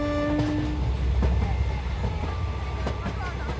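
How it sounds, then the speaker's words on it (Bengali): A night express train draws near, its steady rumble and rattle continuous throughout, with a drawn-out whistle tone sounding at the start before fading under the rolling noise. "শুনতে পেলাম ট্রেনের হুইসেল। রাতের এক্সপ্রেসটা আসছে।"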